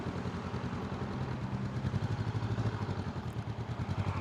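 A Honda motorcycle riding at low speed, its engine putting out a steady low throbbing rumble with a slight pulsing rhythm, close by and continuous throughout.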